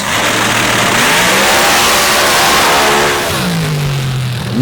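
Blown drag racing car on the scoopers class roars at full throttle during a night record attempt at an MRA round in Mississippi, a loud sustained engine howl with rising pitch near the end, no talk.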